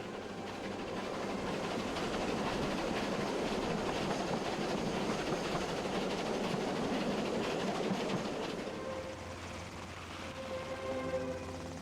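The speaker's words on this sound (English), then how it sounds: "here the locomotive toils uphill from Petersfield towards Burriton Tunnel" Steam locomotive Taw Valley hauling the Orient Express labours uphill from Petersfield towards Buriton Tunnel, a loud continuous roar of exhaust and rolling wagons with rhythmic wheel clatter, easing slightly toward the end as a steady tone emerges.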